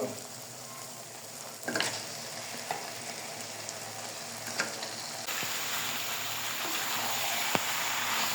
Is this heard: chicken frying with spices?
yes